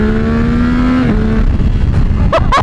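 A Yamaha R9 motorcycle with a new aftermarket exhaust accelerates. A steady engine tone holds, then breaks off into sharp, loud revving bursts close by.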